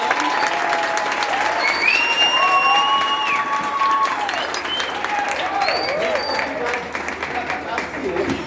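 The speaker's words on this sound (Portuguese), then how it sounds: "Uma salva de palmas" Audience at a church gathering breaking into sustained applause, a dense wash of clapping with cheering voices and a few whistles over it.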